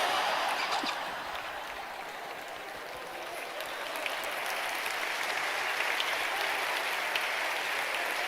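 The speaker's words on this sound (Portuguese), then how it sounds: "Não aplauda não, isso não é mérito não." A church congregation applauds steadily in a large room, a dense wash of clapping that dips slightly mid-way and then swells again, with no speech over it.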